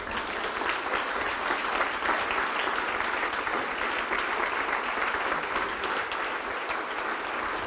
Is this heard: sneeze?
no